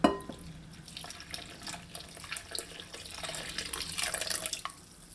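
Warm water splashes and trickles unevenly into a bowl of corn flour for empanada dough nearby, with small drips and bursts of pouring, growing slightly louder toward the end.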